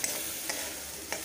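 Diced potato and capsicum sauté in a pan with a steady, close sizzle, broken by a couple of quick spatula clicks, with no voices.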